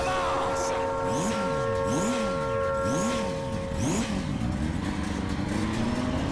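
A motorcycle engine sound effect from an anime revs repeatedly in rising and falling sweeps, about five surges, loud and close over a steady mechanical hum.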